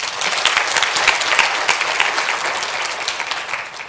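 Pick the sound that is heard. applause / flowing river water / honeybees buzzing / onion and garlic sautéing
applause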